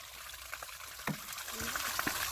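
Hot tub water drains out through a loosened drain knob, a soft gushing trickle that is fairly faint and steady, with a few small knocks over the flow.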